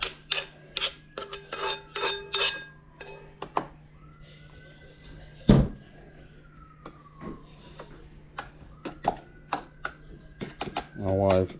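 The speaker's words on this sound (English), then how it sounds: "My wife's chopping a snail." A snail being chopped for larb, a series of sharp knife-on-board knocks in quick bursts, with scattered background sounds and a voice talking in places.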